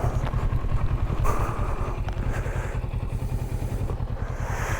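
A motorcycle ridden on a Scottish road after hitting a pheasant, reluctant to change gear: a steady, close engine drone with a low, pulsing beat and wind rush, under faint, muffled voice sounds.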